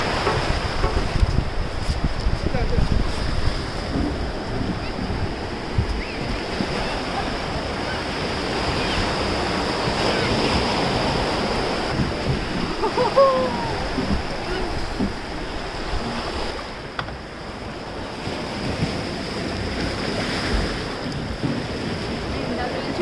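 Ocean waves surge and wash at a Goa beach while strong wind buffets the microphone, a steady rough roar with periodic swells as a boat struggles against the surf.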